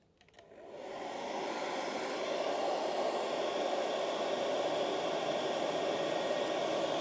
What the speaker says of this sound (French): Je peux vous dire que ça souffle très très fort au niveau de la batterie.